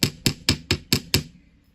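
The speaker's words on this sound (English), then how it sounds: "I'm going to use my metal hammer again. I'm going to flatten the end of that." A metal hammer flattens the end of a jewelry wire into a paddle shape, six sharp, evenly spaced strikes in quick succession, close and crisp, each ringing briefly before the next, with no talking.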